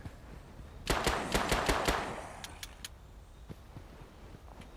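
A short rapid burst of gunfire in the survival game Swanfield Survival, about six sharp shots in quick succession, then a few sparser clicks and pops that fade into quiet.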